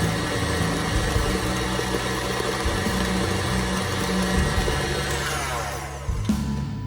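An electric hand mixer whirs steadily through oatmeal raisin cookie dough, a constant motor drone with churning texture that shifts slightly near the end as the beaters are moved around the bowl.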